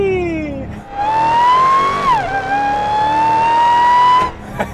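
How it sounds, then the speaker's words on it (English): A 2021 Dodge Charger SRT Hellcat Redeye Widebody's supercharged Hemi with the 2.7-liter Demon supercharger revs up loudly, its supercharger whine rising in pitch, dipping briefly on a shift, then climbing again before cutting off. "let's hear what a supercharger sounds like."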